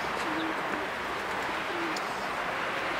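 Soft cooing of two pigeons on a roof over a steady outdoor hiss during a winter pigeon race in Kosakowo, with faint chirps now and then; the calls are quiet and somewhat distant.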